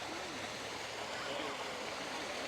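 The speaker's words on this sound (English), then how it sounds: "they have a little creek" A little creek flowing past a mill at a living history park in North Augusta, SC, gives a steady, even rush of water throughout at moderate level, with no breaks.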